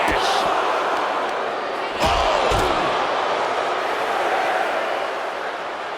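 In the WWE 2K26 wrestling video game, an arena crowd roars steadily behind in-ring action, with a couple of sharp slam impacts and a commentator talking over the noise.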